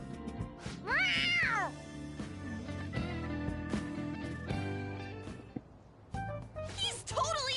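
A cat meows in the video game Persona 5 Royal, with a loud rising-and-falling meow early on and a shorter one near the end, set against background music and character voices.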